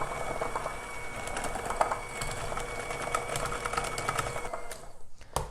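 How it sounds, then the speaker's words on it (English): An electric hand mixer creaming brown sugar and regular sugar for cookie dough fudge, a continuous whirring motor with rattling, scraping beater clicks against the bowl, steady and close, cutting off near the end. "I'm going to use my electric hand mixer here and cream these together."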